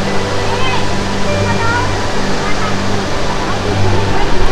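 Igatpuri waterfall pouring forcefully over small rocks, a steady loud broadband rush of water throughout, with faint talking mixed in.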